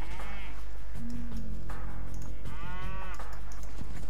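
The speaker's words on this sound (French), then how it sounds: "J'ai pas mal de vaches." Cows mooing in the Age of Empires II HD strategy game, two or three drawn-out lowing calls over a constant low hum and faint clicks.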